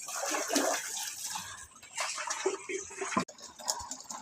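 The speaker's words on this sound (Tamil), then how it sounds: "தண்ணி பிடிக்கிறேன் வந்து" Water runs from an outdoor tap into a vessel at a rural home, a steady close hiss and splashing gurgle that continues throughout with slight shifts in flow.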